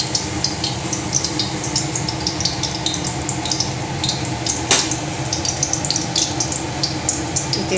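Oil heating in a pan for a Bengali bread pulao gives a steady, close sizzle with crackling pops throughout, one sharper crackle near the middle, and no talking.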